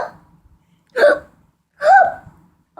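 Two distinct hiccups, sharp vocal jolts spaced under a second apart, close and fairly loud, with quiet pauses between them.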